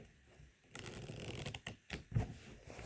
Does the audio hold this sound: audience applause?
no